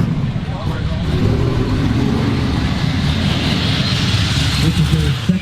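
Drag race cars rev and launch at the Titans of 10.5 event, a loud sustained engine roar building across the clip, with a voice talking over it.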